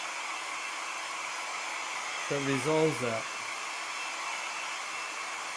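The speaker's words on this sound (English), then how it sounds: "You didn't come here to listen to a hair dryer." A hair dryer blows steadily over watercolor paper to dry and flatten it, a continuous airy whoosh held close and loud throughout, with a brief stretch of voiced talk partway through.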